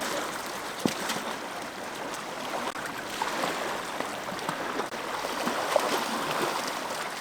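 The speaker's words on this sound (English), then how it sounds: "you hear the water running" A mountain stream runs beside a hiking trail in Girdwood, Alaska, on the Kenai Peninsula, giving a steady, close rush of flowing water with a few small splashes and no voices.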